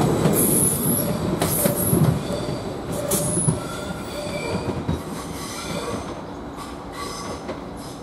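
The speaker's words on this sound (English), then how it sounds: "Now we've got the Lowestoft train going to Lowestoft." Class 755 unit 755421 pulls away from Norwich railway station on the Lowestoft service, its wheels squealing sharply on the rails over a rumbling run that slowly fades as the train moves off.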